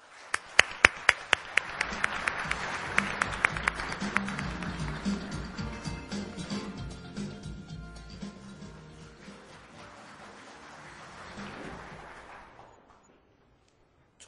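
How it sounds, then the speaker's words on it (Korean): Audience applause at the opening ceremony of the 2010 World Strategy Forum, greeting the forum's co-chairman; a dense, steady clapping wash that swells early and fades out over about thirteen seconds, with a few sharper claps near the start. "여러분 박수로 맞이해 주십시오."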